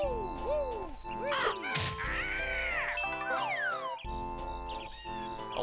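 Bird enemy killed in the Banjo-Kazooie video game, Click Clock Wood level, with sharp cartoonish dings, whip-like swoops and caw-like squawks over steady game music and effects.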